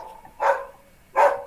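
A dog gives two short, fairly close barks about a second apart, with quiet background in between.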